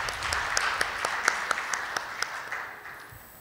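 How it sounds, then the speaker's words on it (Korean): An audience at a Lync 2013 product launch presentation claps after a software demo, a brief round of applause with distinct individual claps that tapers off toward the end. "예, 박수 좀 주시죠."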